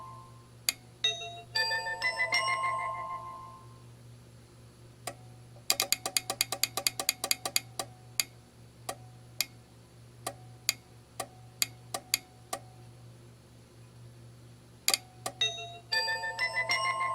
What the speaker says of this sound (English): You will hear, of course, the Jetsons doorbell operate